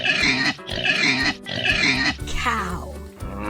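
A pig grunts and oinks in three loud, harsh bursts followed by a rougher squealing snort, heard close with no one talking.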